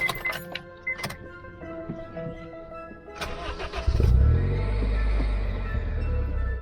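A supercharged Honda Fit GD3 cranks and starts after some clattering handling noises, then settles into a loud, steady idle close by.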